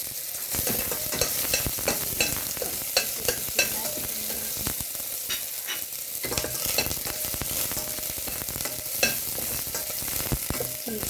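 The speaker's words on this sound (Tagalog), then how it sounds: "mainit na din ang ating olive oil. Lagay na natin ang ating garlic at saka" Garlic and onion frying in hot olive oil, a dense, continuous close sizzle with frequent crackles and stirring scrapes throughout, loud and unbroken, no talking.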